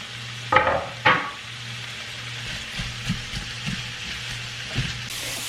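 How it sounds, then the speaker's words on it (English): Fajita onions and peppers sizzle steadily in a hot pan, with a couple of louder scraping stirs early on and soft clatter throughout. "My fajitas are getting noisy"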